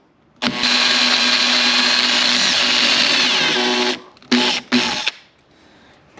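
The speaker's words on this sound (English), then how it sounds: "Probably need a little bit bigger drill bit to drill the center out of that rivet" A power drill bores out the center of a pop rivet in front of the wheel well of a 2018 Jeep Grand Cherokee Limited. It gives one long, loud, steady whine, then two short bursts, close up with no talking.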